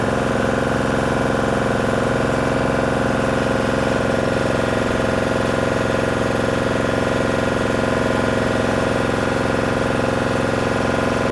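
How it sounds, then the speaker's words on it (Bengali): A fishing trawler's engine drones steadily and loudly at close range, a dense unbroken mechanical hum with a faint knocking vibration and no voices. "আমার লাইফে আমি কিন্তু প্রথমবার কিন্তু ট্রলার দেখলাম, তাও আবার একেবারে সামনে দিয়ে"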